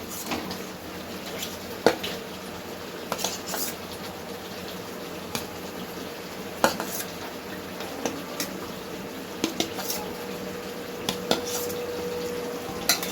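Potatoes being stirred and sautéed in oil in a pan, a soft steady sizzle broken by scattered spatula clinks and scrapes against the metal, quiet and close.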